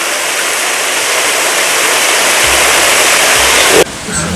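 A waterfall pours steadily into water where turtles swim, its broadband rush loud and constant, then cut off abruptly near the end, leaving a quieter backdrop.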